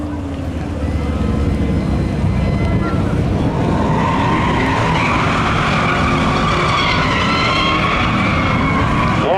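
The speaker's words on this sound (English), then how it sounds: "As he burns it down for the fans over in 4." Race car at Seekonk Speedway during a spectator drag event doing a loud, sustained tire-squealing burnout, engine roaring close up under continuous screeching rubber, with an announcer's voice faintly under the noise.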